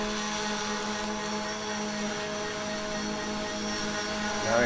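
Drone fitted with a rear drop mechanism flying overhead, a steady buzzing whine of rotors holding constant and moderately loud, rising slightly at the end.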